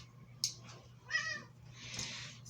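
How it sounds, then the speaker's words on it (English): A house cat meows softly three times in short, separate calls, the last drawn out longer, over a low steady room hum. "Sorry, that's my cat."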